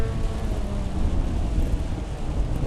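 Rain falls in the Assetto Corsa EVO racing game, a dense, steady rush of hiss and low rumble that fills the space evenly throughout, with no voices.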